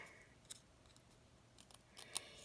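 Small pointed scissors cutting paper around a curved hat outline while crafting a Christmas penguin, a few faint, crisp, close snips spaced irregularly over near silence.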